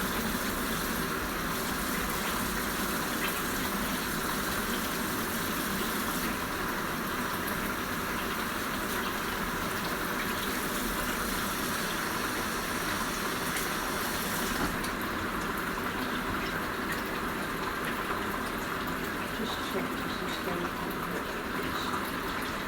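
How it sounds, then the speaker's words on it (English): Hands washed with soap under a running kitchen tap during chicken and rice cooking: a steady, continuous rush of water that stays loud and even for about twenty seconds, with no talking. "I'm going to wash the hands with soap and water."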